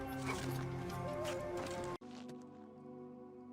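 A horse in the video game The Elder Scrolls IV: Oblivion Remastered, heard as game sound effects with hoof and snorting noises over a steady musical background, with a brief dropout midway.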